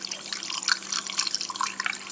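Juice pours steadily into a container while making hibiscus-flower wine, a soft gurgling trickle with small splashes, close by and with no talking.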